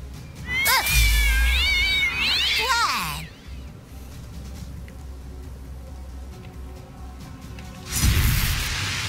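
Cartoonish cat meows with rising and falling wavering pitch come from the South Park video game, two close calls in the first few seconds over a steady game background hum, then a brief burst near the end.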